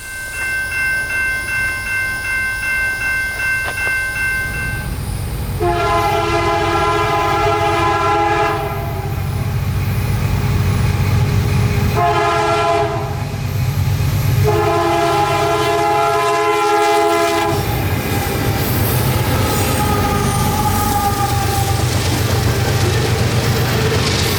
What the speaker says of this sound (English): a heavily heightened race to stay with the train as it thundered southward